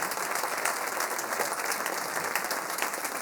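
An audience at the Popcorn Salé autumn 2025 concert claps in a steady, dense burst of applause that fills the hall evenly from start to finish.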